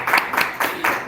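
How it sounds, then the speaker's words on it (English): Audience applause at the end of a talk on AI collaboration tools, heard as a short run of evenly spaced, rhythmic claps, moderately loud and close, with no voices over it. "This applause from Ahlen."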